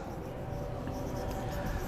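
A teacher writes on a board during a biology lecture, with a steady, continuous scratching of the writing stroke and no speech over it.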